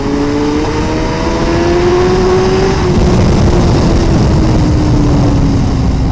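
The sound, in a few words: Suzuki GSX-R1000R motorcycle accelerating at full throttle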